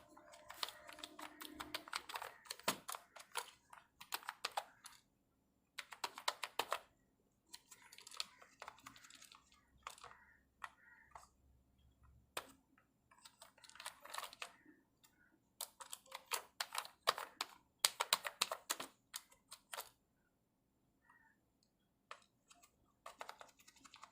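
Computer keyboard typing in bursts of quick, close, soft clicks while a company name is entered in CorelDRAW X5, with short pauses between runs of keystrokes and no talking.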